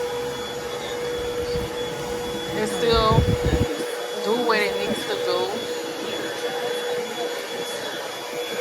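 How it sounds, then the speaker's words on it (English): An old household vacuum cleaner runs with a steady broadband whir throughout, while someone talks over it in the middle of the clip. "let's start this vacuum cleaner. Like, this vacuum cleaner is so old"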